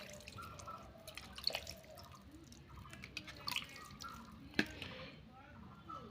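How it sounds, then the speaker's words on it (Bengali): Water is poured lightly onto seeds sown in coco peat, giving a quiet, close trickle with scattered soft drips and splashes. "হালকা করে একটু জল দিয়ে দেবো"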